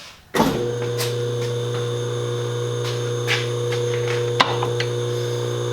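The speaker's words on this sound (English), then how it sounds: "I'm going to zero out my DRO, and locked in my table, and we're ready to cut that with an end mill" Bridgeport milling machine running an end mill during thread repair on a 2021 YZ450F wheel. A steady, close mechanical hum starts abruptly and holds evenly, with a few faint ticks over it.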